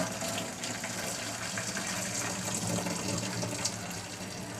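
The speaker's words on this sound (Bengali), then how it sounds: "ফুটিয়ে নামিয়ে নিয়েছি এবারে জলটা ফেলে দেবো" Boiled water is poured off from a cooking pot, a continuous gushing, splashing stream that stays steady and close for several seconds with no talking.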